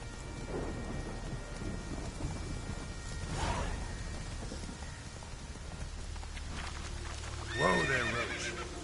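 In the video game Witcher 3, Geralt's horse Roach gives a loud close neigh during a thunderstorm, with rain and rumbling thunder throughout and hooves clip-clopping beneath.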